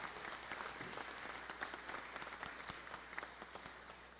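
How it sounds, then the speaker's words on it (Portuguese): Applause at a formal solemn session of the Santos Dumont Foundation, an audience clapping steadily in a hall, fairly quiet and distant, with no talking over it. "eu convido a todos para uma salva de palmas ao Conselho de Curadores"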